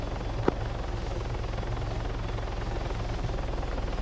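In a video game, an aircraft engine, a helicopter or turboprop, drones steadily and fairly loudly with a rapid, even throb throughout, joined by one brief sharp click.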